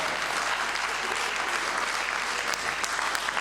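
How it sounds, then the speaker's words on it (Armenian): Applause from an audience fills the whole moment, a steady dense clapping at close range with no talk over it. "ծափահարություններ։"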